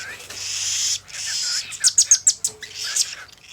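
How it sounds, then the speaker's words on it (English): Baby cockatiels chirp and squeak in quick, high bursts close by, a cluster of sharp peeps crowding together under a bit of background noise. "You're a funny little bird."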